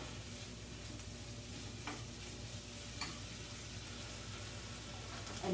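A dish with lemon juice and cilantro sizzles steadily in a pan on high heat, a soft, constant frying hiss with a couple of faint clicks of stirring.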